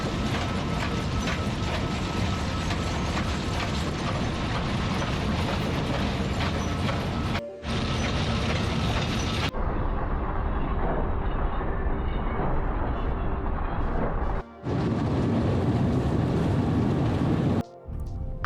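A sugar beet piler at harvest runs loud and close, a steady dense mechanical roar with rattling, ratcheting chains and conveyors, interrupted by a few brief gaps as the machine noise cuts out and returns.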